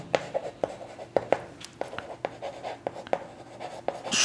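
A pen or chalk writing out a math answer by hand, a series of short scratchy strokes and taps in an irregular rhythm, close and fairly quiet with no talking.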